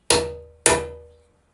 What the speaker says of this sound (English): you strike this handle several sharp blows with a hammer